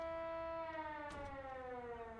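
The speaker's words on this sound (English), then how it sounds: "Damn, that siren is loud." A curfew siren in the video game Schedule 1 wails steadily with a strong, harmonically rich tone that slowly drifts downward in pitch, loud and continuous with nothing else over it.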